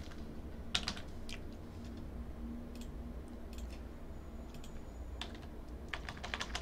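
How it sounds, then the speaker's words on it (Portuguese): A password is typed on a computer keyboard in several short, quiet bursts of key clicks over a low steady hum, close to the microphone. "Vamos digitar a senha."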